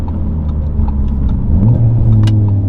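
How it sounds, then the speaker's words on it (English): The 5-cylinder engine of an Audi RS3 with a louder exhaust builds revs steadily, a loud, close, continuous engine note rising in pitch partway through, with no talking. "a lot of people comment about the 5-cylinder sounding like a V10"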